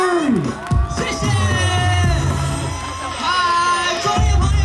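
Audience at an outdoor Taiwanese-language concert in Zhongli cheers, whoops and yells as a singer is welcomed, with loud crowd noise and voices over it.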